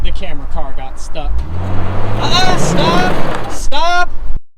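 Off-road vehicle engine revving under strain while a 2021 Jeep Gladiator Rubicon camera car sits stuck and dug in; a low motor drone rises with whining harmonics, close and loud, with voices talking over it.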